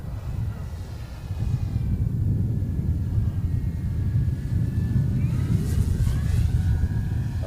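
A competition model airplane at a design-build-fly contest coming in to land, heard as a steady low engine drone blended with gusty wind rumble, continuous and moderately loud throughout.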